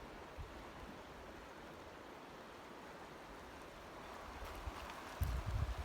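Shallow stream at the bottom of the West Fork of the Bitterroot in Montana, a steady broad wash of flowing water with a slight swell and a brief bump near the end, no voices.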